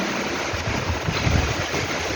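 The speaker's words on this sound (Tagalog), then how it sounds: "Dinig nyo naman siguro guys, oh. Yung hangin." Constant heavy typhoon wind rushing and roaring close by, a dense broadband noise with low rumbling buffets, no voices.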